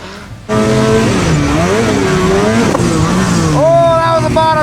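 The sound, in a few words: snowmobile engine riding through snow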